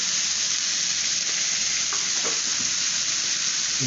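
Ground chili, cumin and coriander masala powder goes into hot oil in a pan, giving a loud, constant sizzle with a few faint stirring scrapes.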